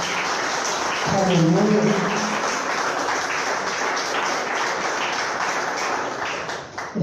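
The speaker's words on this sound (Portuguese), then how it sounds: "dê uma salva de palmas" A church congregation at a family worship service claps in a continuous wash of applause, with a voice calling out briefly near the start over the clapping.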